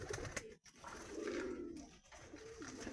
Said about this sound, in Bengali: এই যে দুটো পায়রা